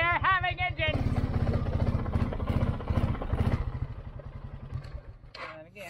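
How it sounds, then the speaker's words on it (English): A motorcycle engine with a fault on a dangerous Mississippi trail runs rough, sputtering and pulsing loudly up close, then fading and cutting out, with voices over it. "Oh, there's something wrong with the engine."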